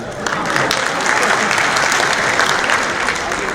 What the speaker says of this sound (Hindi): एक आदमी ने ताली बजाई, उसके लिए बहुत बहुत धन्यवाद।